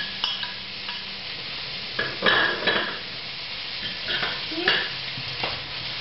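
Diced chorizo and ham cubes frying in a pan for a cataplana, a constant close sizzle broken by several scraping strokes of a utensil stirring the pieces, with no talking.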